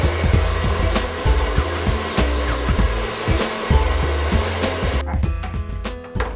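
A hair dryer blows close by in a steady, loud whooshing roar while hair is being dried, with small flutters as the airflow shifts. The roar thins out near the end.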